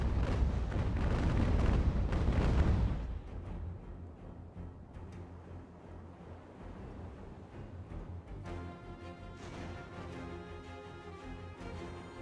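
Ship cannons firing in a naval sailing-battle video game, a heavy rolling broadside boom that fades into a long rumbling tail, followed by lighter sustained background tones.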